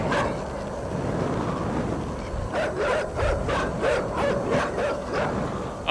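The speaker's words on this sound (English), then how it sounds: "Fucking dogs." Dogs in the video game Inside bark in a quick, repeated burst during the second half, set against a dense, noisy game soundscape.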